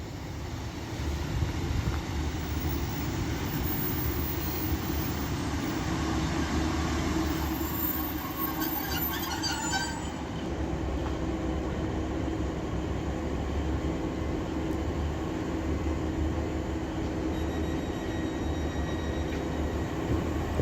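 A train arrives and departs at Castleton station on the Calder Valley line, a long steady rumble of wheels and engine close by, with a brief squeal of brakes partway through and no talk.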